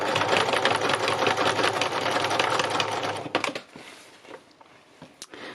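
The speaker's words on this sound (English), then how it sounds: "It's got quite a lot of fabric to sew through, so you can hear it just being a bit louder than usual" A sewing machine stitches slowly through several layers of thick fabric, whirring loudly and steadily for about three seconds before stopping, leaving quieter handling noises.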